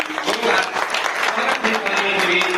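Dense, sustained applause from a crowd fills the whole stretch, loud and steady with a voice faintly carrying over it.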